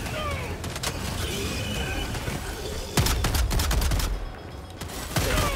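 Laser cannon fire from Helldivers 2 against bots, with dense bursts of shooting and blasts, loudest from about three seconds in, continuing under the gameplay noise of a busy firefight.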